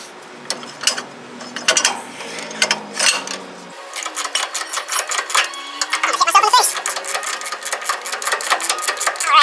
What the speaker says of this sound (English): We got that nut loose.